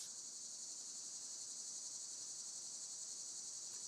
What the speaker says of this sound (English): crickets sounding like a ostinato.